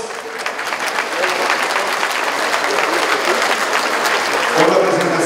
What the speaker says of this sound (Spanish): Y los aplausos